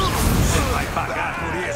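Confringo blast spell cast in a dark-arts battle arena in Hogwarts Legacy, a loud crashing magical burst with a whooshing tail mixed with character voices and combat noise.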